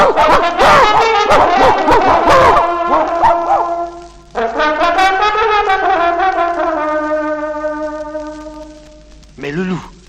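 Hunting dogs barking and yelping while chasing a wolf, a dense burst of overlapping barks followed by a long howling, whining tone and a brief final yelp, loud and close in a dramatized fairy-tale scene.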